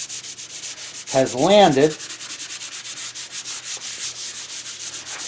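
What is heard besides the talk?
sanding wood with sandpaper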